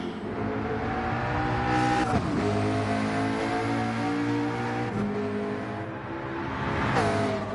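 GT race cars, among them the Amigos Racing Team McLaren, roar past at the Bathurst 12 Hour with loud sustained engine drones, gear changes and revving pitch sweeps as they go by one after another.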